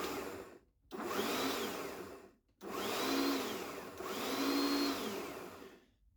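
A cordless lawn mower's electric motor, wired roughly through an automotive relay with crocodile clips, whirs in three steady high-pitched bursts separated by short silences, spinning up and winding down each time.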